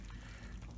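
Water poured into a hot frying pan of eggs gives a steady, faint hiss and trickle, continuous and alone.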